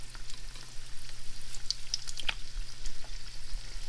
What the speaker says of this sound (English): Let those fry up.